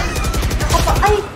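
Rapid bursts of gunfire in the video game Valorant rattle out in quick succession, loud and close, with other game effects layered over the shots.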